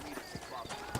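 Horse hooves clip-clopping in the Red Dead Redemption western video game, a quick run of close hoof beats sounding under a voice.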